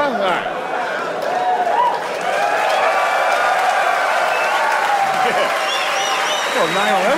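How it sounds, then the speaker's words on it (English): Stand-up comedy audience breaks into sustained applause and cheering, a dense crowd roar with whoops rising over it, steady and loud throughout the stretch. "That's an applause break."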